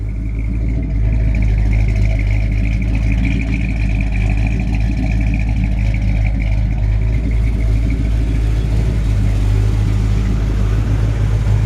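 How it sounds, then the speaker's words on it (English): The engine of a 1955 Ford F100 hotrod runs steadily nearby, a loud, continuous low rumble with slight rises in revs and no voices over it. "It's a really, really sound running engine."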